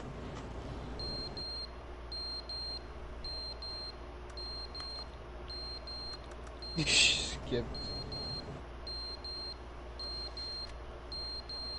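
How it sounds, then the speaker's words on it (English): Repeated short electronic beeps in the video game The Stanley Parable, evenly spaced paired tones repeating steadily at low level, briefly broken by a louder burst of noise and a short spoken word. "It's beeping, bro."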